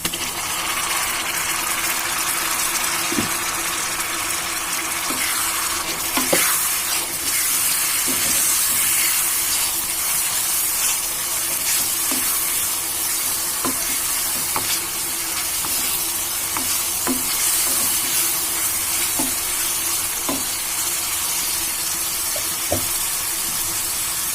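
Tomato pieces fry in a pan of egg curry with a steady, hissing sizzle. Soft clinks and stirring scrapes come through now and then, and there is no talk.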